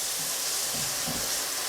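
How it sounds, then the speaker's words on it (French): Hot water goes into a pan of onions for French onion soup, giving a steady, dense hiss and sizzle with no talking. "Et là, je vais y ajouter de l'eau"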